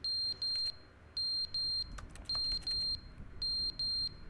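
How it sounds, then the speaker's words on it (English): Fire alarm in The Stanley Parable beeping in a steady pattern of short, bright high-pitched chirps, grouped in pairs with brief gaps, loud and close over a low background hum. "What is that? That seems to be a beep. Oh. Oh,"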